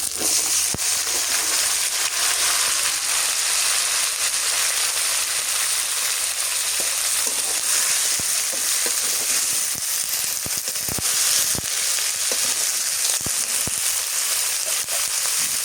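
Vegetables dropped into hot oil beside a frying hilsa fish tail, a loud dense crackling sizzle that holds steady throughout with scattered sharper pops.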